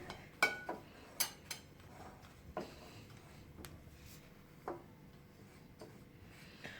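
A spoon works a milk powder mixture for chocolate burfi in a pan, giving sparse, faint clicks and scrapes at an irregular, unhurried pace in a quiet kitchen.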